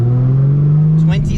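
A Nissan A31 Cefiro's engine runs steadily while the car drives, a constant low hum with a brief rise near the end and a voice speaking over it.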